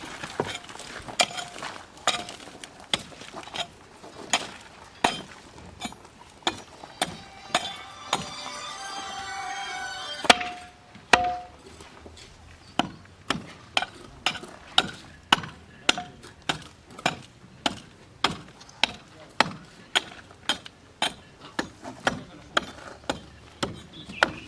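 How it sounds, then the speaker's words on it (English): Excavation work at the foot of a pillar to expose PVC pipe, heard as a long series of sharp, regular impacts like a pick or digging tool striking earth and stone, with a brief grinding scrape midway. "We are doing excavation down here to get to the foot of the pillar and check the PVC."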